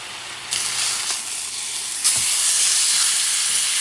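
Pork searing in a hot pan for its first cooking before roasting in the oven gives a steady, loud broadband hiss that surges at two points and keeps sizzling continuously without any talk.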